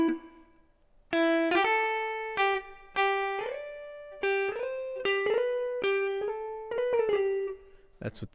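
Sampled Fender Stratocaster guitar played with the slide function on, giving a warm, bell-like clean tone: a held note, then a run of plucked notes that glide up into pitch and ring, ending in a brief noisy burst.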